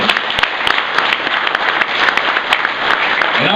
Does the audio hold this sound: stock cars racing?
no